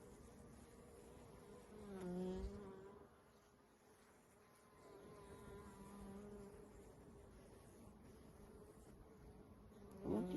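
Honeybees buzz steadily around a hive during an oxalic acid dribble treatment, a soft continuous hum that swells and fades as individual bees fly near.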